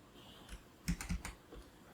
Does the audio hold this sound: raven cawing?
no